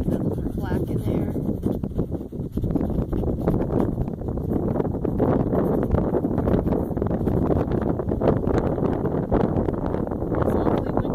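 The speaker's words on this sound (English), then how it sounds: "It's awfully windy. It seems like it's always windy." Gusty wind buffets the microphone on a hilltop in a rural landscape, a rough, fluctuating roar that swells and dips irregularly for the whole stretch, with a person talking over it at times.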